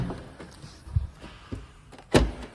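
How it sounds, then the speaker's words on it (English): A few soft thumps and clunks of a Mini Countryman's rear barn doors being opened, ending in a louder latch clunk near the end, with faint background noise. "And as we open the barn doors on the back,"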